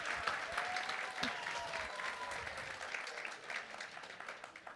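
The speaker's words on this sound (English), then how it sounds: "Let's give a round of applause." An audience applauds students at an elementary school award ceremony, a steady wash of clapping from many hands that carries on throughout and thins slightly toward the end.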